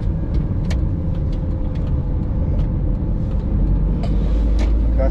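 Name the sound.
road traffic heard from inside a car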